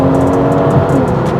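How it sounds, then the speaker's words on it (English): A 2025 BMW M440i at full throttle: a loud, continuous engine roar that holds strong and close throughout the short burst of acceleration, with no talk over it. "and if I floor it, whoa"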